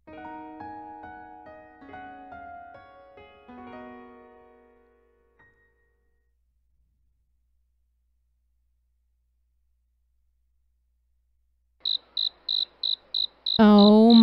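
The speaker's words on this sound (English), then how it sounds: "Oh my god, crickets!" Crickets chirping in the game Lady in Mystery, a quick series of sharp, high pulsed chirps arriving after music and a long silence, followed by another loud sound.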